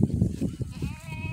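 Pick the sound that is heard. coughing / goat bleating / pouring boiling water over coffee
goat bleating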